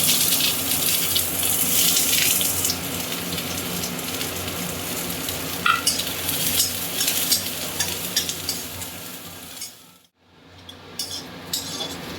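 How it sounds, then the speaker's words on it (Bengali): Onion sizzling and frying in a pan while being stirred, a continuous crackling hiss with occasional scraping, a short pause, then sizzling resumes. "এবার আমি পেঁয়াজটাকে বেঁচে নেব"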